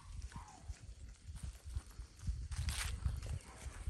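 Hooves of goats clatter and patter over the ground of a backyard farm, a steady uneven run of close footfalls with a brief bleat-like call early on.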